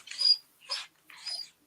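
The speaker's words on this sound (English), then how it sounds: "I can hear a high-pitched dog screaming at me right now" A small dog indoors gives three short, high-pitched whimpering cries separated by brief pauses, fairly faint and with no talk over them.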